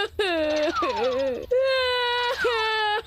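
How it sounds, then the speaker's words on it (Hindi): Nobita, the cartoon boy from Doraemon, wails loudly in long, sobbing bursts with rising and falling pitch and brief breaks between cries, close and dominant with no other sounds. "ये जोर जोर से रोने की आवाज मैंने पहले भी सुनी है। मुझे पता है ये जरूर नोबिता ही है।"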